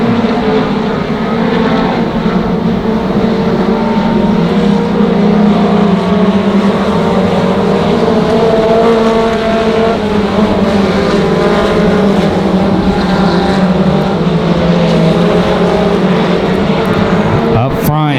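Race cars roar around Monarch Motor Speedway in a continuous loud, dense engine drone that swells and blends as the pack passes, with a track announcer talking over it.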